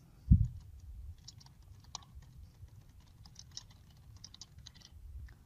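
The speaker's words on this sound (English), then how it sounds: "You type in the journal name into the second box." A journal name is typed on a computer keyboard in a quiet room, giving light, irregular key clicks after one louder opening tap, close by and with no talking.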